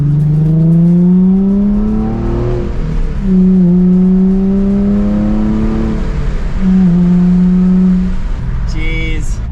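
A Nissan 350z with a RevUp engine accelerates on the road, its loud, close engine note climbing in pitch through several stepped rises and drops as it shifts up through the gears, with a brief higher whine near the end.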